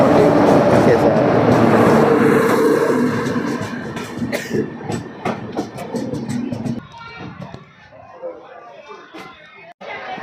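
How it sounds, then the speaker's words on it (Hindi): Danapur–Koderma Intercity passenger train hauled by a WAP-4 electric locomotive arriving at a station in Bihar, a loud continuous rumble that fades after a few seconds into softer clacks and platform noise, with voices talking over it. "बिल्कुल ऑन टाइम वेब 4 लोकोमोटिव के साथ हमारी दानापुर कोडरमा इंटरसिटी अराइवल ले रही है।"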